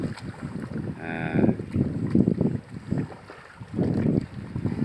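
Outdoors with wind rumbling in the microphone, a low bellowing water buffalo call rises briefly against steady background noise, the herd wallowing in mud.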